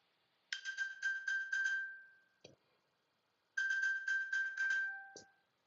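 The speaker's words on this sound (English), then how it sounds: "you'll hear my phone ring" An iPhone rings after being pinged from an Apple Watch: two bursts of a chiming electronic ringtone pattern, each about two seconds long, played close and clear in an otherwise quiet room with a brief click between.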